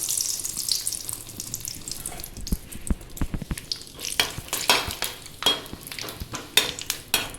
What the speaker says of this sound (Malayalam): ഇതിലേക്ക് കുറച്ച് കാഷ്യൂനട്ടും ഇട്ട് കൊടുക്കുന്നുണ്ട്. ഇതും നമുക്ക് ഫ്രൈ ചെയ്തെടുക്കാം.